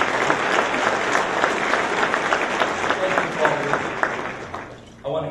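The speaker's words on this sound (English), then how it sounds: "A round of applause." Audience at a city roundtable luncheon gives council members a round of applause, a loud, dense wash of clapping from a large crowd that holds steady for about five seconds, then fades with some voices near the end.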